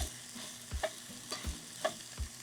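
Sausage sizzles in a cast iron pan on a Big Green Egg while being broken up, with a steady fry hiss punctuated by about four rhythmic scraping stirs, close and moderately quiet.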